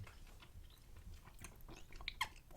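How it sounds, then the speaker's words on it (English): Gum is chewed close to the mic in a quiet setting, giving soft irregular wet clicks and smacks that grow sharper and crisper toward the end. "If you don't like chewing gum, I'm very sorry."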